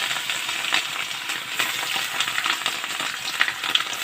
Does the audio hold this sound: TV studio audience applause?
no